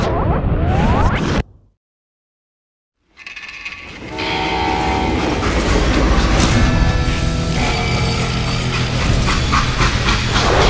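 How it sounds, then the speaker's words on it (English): In the video game Call of Juarez: Gunslinger, a rumbling freight train with a horn blast, cut by a brief silence, then a steady, loud roll of railcars continuing to the end. "They hopped a freight train"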